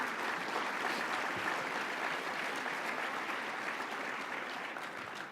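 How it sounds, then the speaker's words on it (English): A crowd applauds during the Long Beach mayor's 100-days speech, dense sustained clapping that holds steady for several seconds before easing slightly at the end. "A round of applause for our airport."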